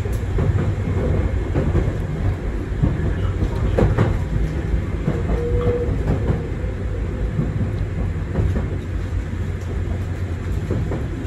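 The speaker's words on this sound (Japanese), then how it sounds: "電車はゆっくりと越谷駅に入線しようとしております。" Tokyu 8500 series electric train rolling slowly into Koshigaya station, a steady low rumble of wheels and motors heard from inside the car with faint rail clicks throughout.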